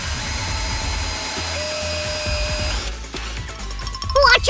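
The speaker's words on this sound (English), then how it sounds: "And here comes the drill again." An electric drill boring into a plastic bottle lid for a DIY remote-control toy, a steady motorized whine with broadband grinding, then a higher squealing burst near the end, loud and close without talk.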